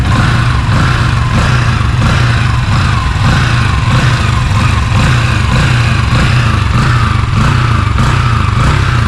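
A 2026 Yamaha Sniper 155 R ABS motorcycle, freshly started on its electric starter, idles steadily up close with a loud, even engine drone and no talk over it.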